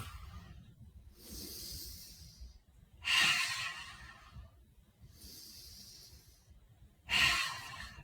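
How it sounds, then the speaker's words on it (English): Lion's breath exhales from a chair yoga class: forceful breathy hisses with the tongue out, four bursts alternating softer and louder, each followed by quiet inhales, close and unaccompanied. "you're sticking your tongue out and you're sort of hissing like you're a lion"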